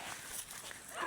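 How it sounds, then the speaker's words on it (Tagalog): A dog barks once or twice, faint and somewhat distant, in a brief outdoor moment with a little background noise. "May aso."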